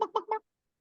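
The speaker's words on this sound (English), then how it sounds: "There are chickens here. Do you hear them?" Farm chickens, three quick squawking calls in a row, close and fairly clear, then silence.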